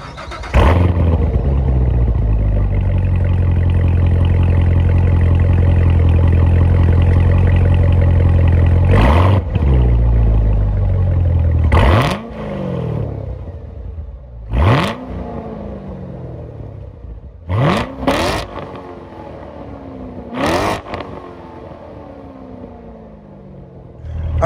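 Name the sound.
Chevrolet C7 Corvette Z06 supercharged 6.2-liter LT4 V8 engine revving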